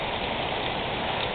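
Heavy rain pours over an overflowing rain gutter during a hailstorm, a dense, constant, loud hiss of falling water without pauses.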